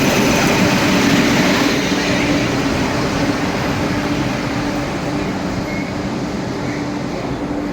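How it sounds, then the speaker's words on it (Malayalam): A train rolls through a station, heard as a loud, continuous rumble with a faint steady hum that eases slightly toward the end, and no talking. "ഇത് സ്റ്റേഷനിൽ ഇങ്ങനെ ട്രെയിൻ പോയിക്കൊണ്ടിരിക്കുകയാണ്."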